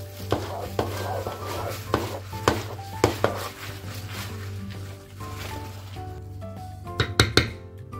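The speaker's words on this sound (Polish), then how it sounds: "Mieszamy." A spoon stirs crushed pieces into cream in a bowl for a strawberry dessert, scraping and tapping against the sides in uneven strokes over a steady low hum.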